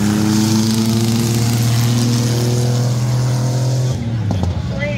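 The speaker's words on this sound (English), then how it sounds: "he's trying to take out Owen, the truck into the wall, two trucks into the wall" Racing trucks on the track at Midvale Speedway during a trailer race roar with loud, sustained engine drones near the microphone, the pitch holding steady before easing off and shifting near the end.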